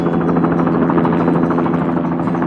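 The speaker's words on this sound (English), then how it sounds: "a blue helicopter glides gracefully through the morning sky." A helicopter drones loudly and steadily, its rotor chopping in a fast, even pulse throughout.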